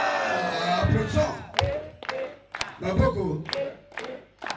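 A church congregation at a French-language worship service in Loudima claps in a few loud, sharp bursts with crowd voices and shouts, the applause coming in uneven waves close by.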